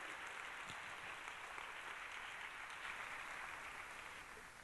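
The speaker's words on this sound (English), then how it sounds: "A round of applause for all our presenters." A round of applause for the presenters at a university research day, steady and continuous but faint and distant, easing off slightly at the end.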